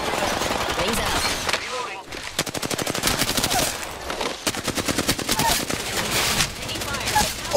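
Rapid automatic gunfire in Apex Legends, long rattling bursts of closely spaced shots broken by short pauses, loud and near, with talk over part of it.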